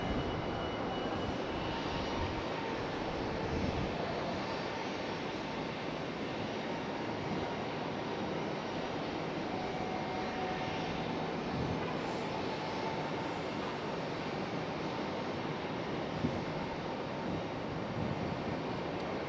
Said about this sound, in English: FedEx going full length all the way down to the end down there.